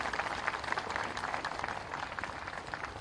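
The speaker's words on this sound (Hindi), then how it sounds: "एक बार जोरदार ताली से दुनिया भर के मातृत्व का सम्मान करिएगा" A large crowd at a Ram Navami gathering breaks into sustained applause, a dense, even roar of many hands clapping heard at a distance, steady throughout with no speech.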